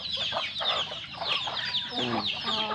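Turkeys feeding among other poultry, including junglefowl, on a rural farm, giving repeated clucking and gobbling calls close by, steady and busy throughout with overlapping bird voices.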